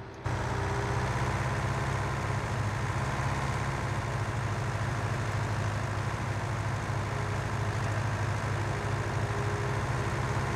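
Fiat tractor engine in Farming Simulator 19, driving slowly with a steady, loud low-pitched drone that holds constant throughout, no talking over it.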